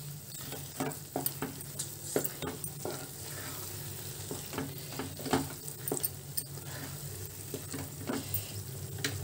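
A spoon stirs carrot halwa with cardamom powder in a pan, giving steady soft sizzling and repeated light scraping taps throughout, close and continuous, with no voices.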